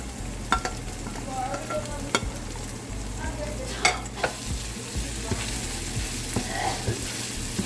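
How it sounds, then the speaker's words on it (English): Saltfish frying with tomatoes and green onion in a pan. A steady sizzle runs underneath, broken by repeated utensil clinks and scrapes as the mix is stirred, heard up close. "I'll add some tomatoes now and then fry it up for another couple of minutes."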